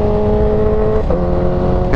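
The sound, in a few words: Kawasaki Ninja H2R motorcycle accelerating hard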